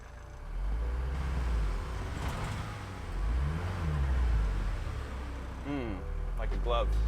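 A 1988 Mercedes 240GD military off-roader stuck in sand, its mid-pitched engine droning steadily and surging in revs, close and loud, with people talking over it.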